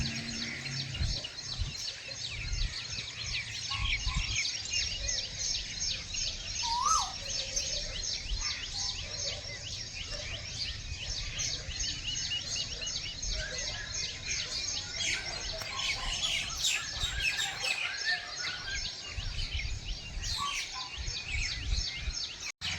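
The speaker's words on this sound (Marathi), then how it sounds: "खूप छान सुंदर आवाज येतो आहे पक्ष्यांचा" Many birds chirp and call continuously over a soft outdoor background, with occasional louder calls standing out; nobody speaks.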